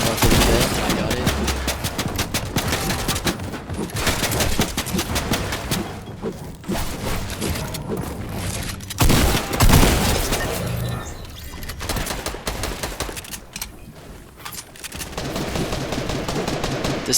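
Rapid bursts of gunfire in the Fortnite battle royale endgame, loud and near, with repeated volleys and brief pauses, mixed over game sounds and faint talk.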